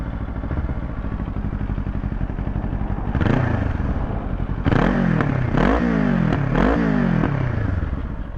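A Ninja 500 motorcycle with an aftermarket exhaust idles with a steady low rumble, then revs up sharply several times in quick succession, each rev rising and falling back, loud and close.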